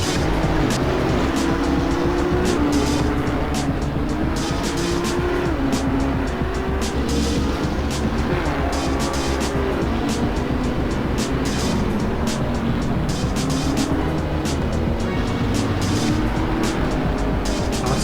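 GT3 race cars, a McLaren among them, roar through a simulated Assetto Corsa race at Eastern Creek, engines loud and continuous with tires squealing as the pack passes close.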